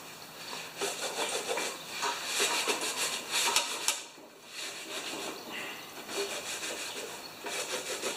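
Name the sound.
scratching up the surface of a Yard Machines mower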